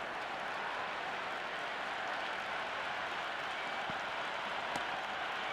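A steady, loud roar of a stadium crowd cheering and clapping in the cricket video game Cricket 26, an unbroken wash of noise lasting throughout with no pauses.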